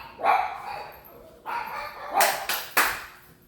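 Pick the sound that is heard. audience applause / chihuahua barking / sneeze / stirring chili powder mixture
chihuahua barking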